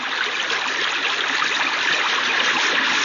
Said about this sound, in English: the sounds he heard were just those of the river running swiftly under the bridge